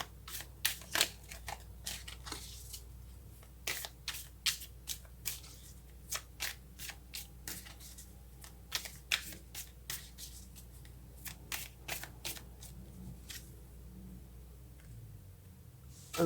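Tarot cards shuffled and riffled by hand, a long run of crisp irregular flicks and snaps close up, some sharp and some soft, with no voice.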